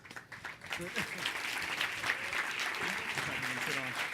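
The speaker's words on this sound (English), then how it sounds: "Another round of applause, please." Sustained audience applause at a talk event, a dense wash of clapping throughout, with some voices mixed in.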